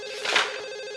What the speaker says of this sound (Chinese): 我去接一下电话